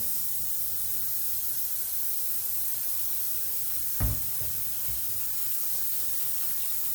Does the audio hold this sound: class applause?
no